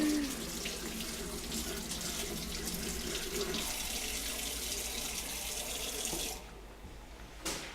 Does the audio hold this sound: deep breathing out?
no